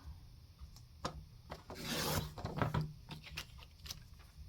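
A paper index card being trimmed, with a string of dry snips and a longer rasping cut in the middle, close and quiet with no talk.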